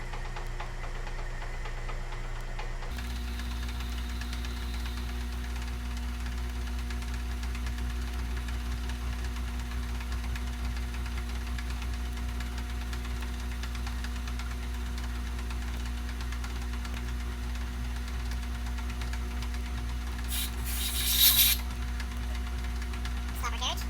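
Metal lathe taking a cut while machining a custom XS650 motorcycle wheel spacer, a steady motor hum and droning tone running throughout, with a brief scraping burst near the end.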